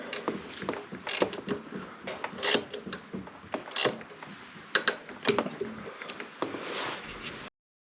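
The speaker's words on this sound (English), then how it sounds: "life was more of a struggle before I got these ratcheting box end wrenches" A Gear Wrench ratcheting box end wrench working on a Subaru in cold weather, with irregular close metallic clicks and short bursts of ratcheting among faint handling noises, no talking.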